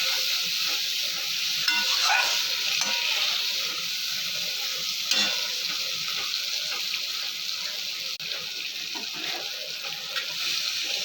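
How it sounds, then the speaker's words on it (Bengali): Water poured into a pan of frying spice paste (masala) for a Bengali fish and eggplant curry, giving a steady hissing sizzle and watery splashing with light stirring, fairly close and continuous, with no talking. "কষানো হয়ে গেছে, এখন জল দিয়ে দেবো।"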